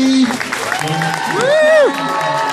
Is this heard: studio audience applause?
yes